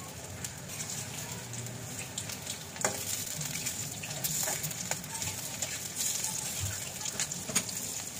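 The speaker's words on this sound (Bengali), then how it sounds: "আমার ক্যাপসিকামের পাকোড়া এরকম মুচমুচে করে ভেজে নিতে হবে" Capsicum pakoras deep-fry in oil until crisp, a loud, continuous close sizzle with bubbling and frequent sharp crackles.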